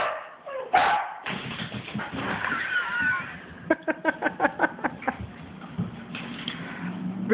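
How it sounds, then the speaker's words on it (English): A dog whimpers and whines in a series of short, rhythmic yelps, fairly close, mixed with rustling and soft background noise. "Oh, he's whimpering."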